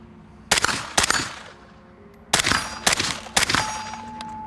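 Five suppressed shots from an AR-15 Dissipator rifle with a can fitted, sharp and close, fired in two groups: a pair, a pause, then three more, with a metallic ring after each.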